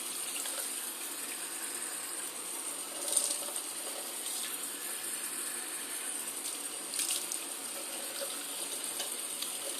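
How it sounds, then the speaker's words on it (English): A tap runs steadily into a sink while someone washes their face, a soft, even water hiss with a couple of faint splashes or clinks, no talking. "I'm going to wash my face."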